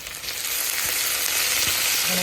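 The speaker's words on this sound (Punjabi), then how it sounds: "ਹੁਣ ਜੀਰਾ ਜਵੈਣ ਤੇ ਅਦਰਕ ਤੇ ਲਸਣ ਜਿਹੜਾ ਤੜਕਾ ਪਾਤਾ" Cumin, ajwain, ginger and garlic dropped into very hot oil for a tadka while making pickle, a loud, dense, continuous close sizzle with faint stirring clicks.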